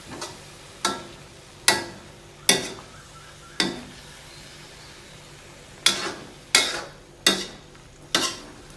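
Chicken liver and Osun vegetable leaves are stir-fried in a pan, with a soft background sizzle broken by sharp, evenly spaced spatula strikes, a pause in the middle, then a quicker cluster of knocks.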